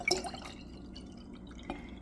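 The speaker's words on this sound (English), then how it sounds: "I'm pouring the maple sap in both jars" Maple sap poured into jars holding water kefir grains gives quiet dripping and trickling, with a couple of brief splashy pulses near the start and one more toward the end.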